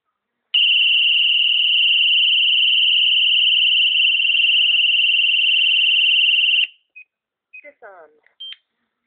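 A Simon XT General Electric security alarm sounds a loud, steady electronic tone for about six seconds, then cuts off, followed by a few short beeps and chirps from the panel.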